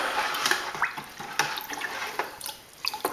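Liquid sloshing and dripping as a homemade Ribena wine mix of about two gallons is stirred in a container, close, uneven splashes and trickles with no talking.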